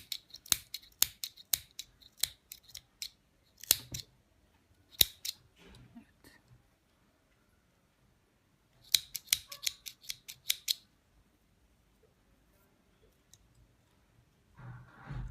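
Scissors snipping crochet loofah yarn, with quick bursts of sharp close clicks in two clusters separated by quieter pauses, no one speaking.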